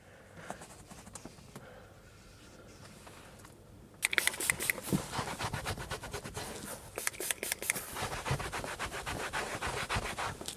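Quiet at first, then brisk close scratching and rubbing on the Alcantara headliner of a BMW 760 Li V12, a dense run of short abrasive strokes continuing to the end.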